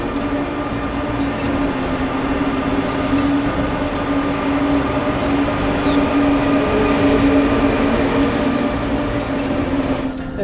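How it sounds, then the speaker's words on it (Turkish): A regional train in Germany on the Berlin to Dessau line rumbles steadily nearby as it pulls in, with a continuous loud hum and a low tonal drone throughout. "trenimiz tam zamanında geldi"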